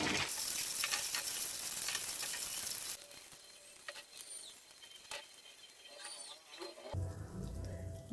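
Homemade ghee simmering in a pan on the stove, a dense crackling sizzle that is loud at first, then settles into softer, sparse popping and bubbling.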